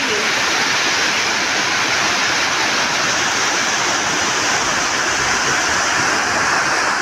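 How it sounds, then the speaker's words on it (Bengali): Heavy rain roars over a pond in a thick, constant wash of noise, loud and unbroken throughout. "দেখেছো কত জোর বৃষ্টি।"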